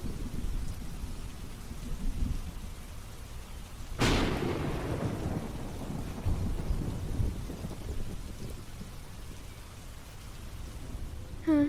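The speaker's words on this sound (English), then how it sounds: "heavy rain started to pour" Steady heavy rain pouring in a garden during a storm, with a sharp, close thunderclap partway through that rumbles and fades beneath the continuous downpour; no voices.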